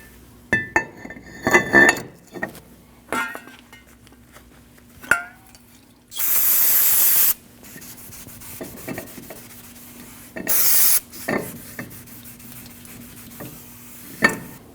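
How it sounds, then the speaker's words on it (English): Two loud, hissing bursts of aerosol brake cleaner sprayed onto a 2003-2008 Subaru Forester front brake rotor, each about a second long, set among clinks, taps and wiping sounds of work on the brake assembly. "Just want to spray some brake cleaner on that and just wipe it down."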